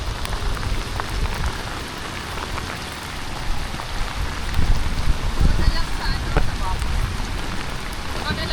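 Rain falling steadily during a fishing outing, a dense close patter of drops on surfaces with occasional louder hits, continuous throughout.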